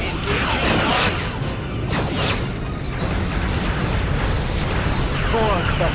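Borg vessel blowing apart in the Star Trek Legacy space combat game, a series of loud crashing bursts and whooshing blasts over a dense, constant roar of battle effects.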